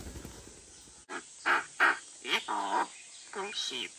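A pet myna bird gives a rapid string of harsh, raspy, caw-like calls and squawks, loud and close after a brief quieter moment.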